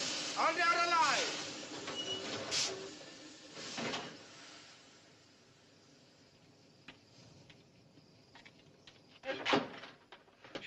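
Window shutters on a railway carriage are pulled up, making a few loud rattling, sliding bursts separated by quieter stretches, with voices speaking over parts of it.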